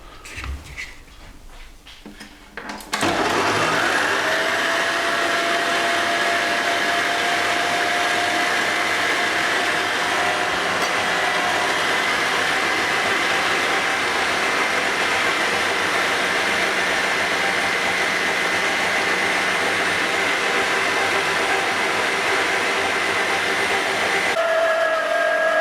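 A stand mixer with a dough hook kneads sticky hot cross bun dough, giving a loud, steady motor whir with a whining tone that runs on without a break and is close by.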